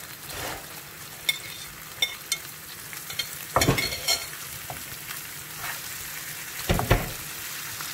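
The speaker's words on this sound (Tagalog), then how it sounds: "lagay po natin ang ating chicken" Chicken goes into a pot for chicken porridge (lugaw) and is stirred: a soft continuous simmer with several sharp scraping stir strokes and clinks against the pot, close and alone without talk.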